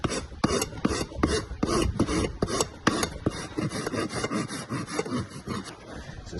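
Farrier's rasp filing a small pony's hoof, a rapid run of rough scraping strokes in a steady back-and-forth rhythm, loud and close with no talk.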